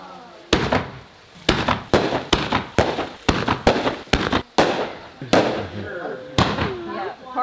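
Fourth of July fireworks at a family party: a rapid series of about a dozen loud, close bangs with sharp attacks and crackling tails, with voices and excited shouting between bursts.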